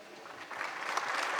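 Audience clapping at a Tamil film audio launch event, a short burst of applause that swells slightly, heard from a moderate distance with no speech.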